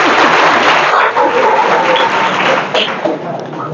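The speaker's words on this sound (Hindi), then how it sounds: "तो यादव सर के लिए बजाओ तालियां।" Students applaud in a polytechnic college classroom, a dense and fairly loud patter of clapping that continues throughout and fades slightly toward the end.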